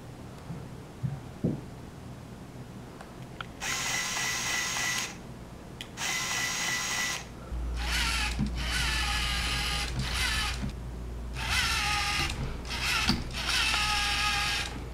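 Small LEGO EV3 robot drive motors whir in several separate bursts of a few seconds each, a close, high mechanical buzz stopping and starting over a low steady hum.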